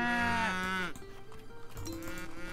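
Cattle mooing in a herd in the video game Age of Empires 3, a loud, drawn-out moo followed by further lowing and bellowing from several cows.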